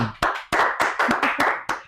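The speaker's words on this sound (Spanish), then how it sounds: "Les presentamos con un fuerte aplauso a Metzin." A few people clap their hands in welcome for a new member joining a podcast, a quick run of about seven crisp, evenly spaced claps, close and fairly loud with no talk over them.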